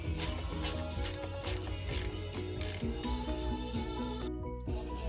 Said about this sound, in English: Ratchet wrench on there. Start taking it off.